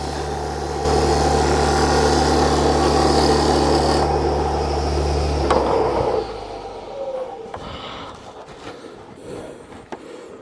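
A wood lathe motor hums steadily while a light, fine cutting sound runs over it on a winged bowl, then the machine winds down and a few small clicks and taps follow.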